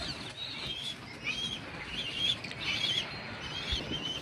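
Pigeons coming down onto a rooftop to eat scattered bread crumbs, with soft wing flutters and scattered high chirps over a low background rustle, at moderate distance.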